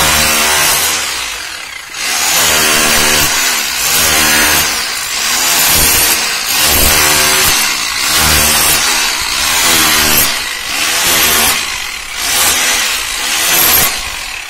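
A Bell-brand hammer drilling machine boring holes of about 2.5 inches, running loud and continuous with a rough, rattling motor whine that rises and dips in repeated cycles as it bites, with no talking.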